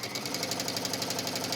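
A domestic sewing machine stitches down a seam on a wrap dress, a steady rapid mechanical whir with a fine, regular pulsing rhythm, close and continuous.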